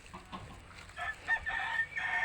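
Chickens clucking and a rooster crowing at close range in a rural backyard flock, with short overlapping calls rising toward the end.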